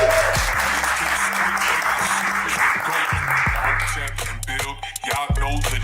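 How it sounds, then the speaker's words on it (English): Audience applause for a guest on a call-in show, with dense clapping that holds steady and then breaks up. A low, steady musical tone plays underneath. "Everybody, clap for Ken Hotep."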